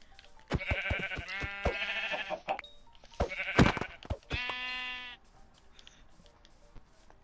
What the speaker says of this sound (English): There's two sheep, but they're different color.